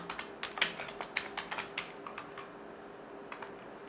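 Rapid, uneven keystrokes on a computer keyboard while an online form is filled in, close and fairly quiet, busy at first and then thinning out to a few scattered taps.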